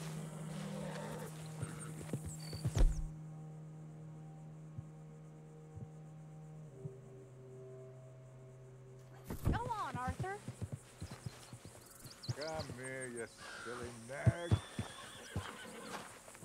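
A horse in Red Dead Redemption 2 whinnies amid steady hoofbeats and clip-clop, with voices talking in between and a low hum underneath.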